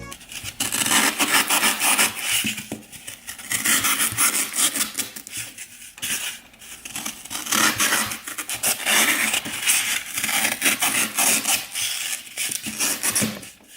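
Continuous close-up scraping and rasping as a knife works through a soft foam-like craft block, in rhythmic strokes with short pauses.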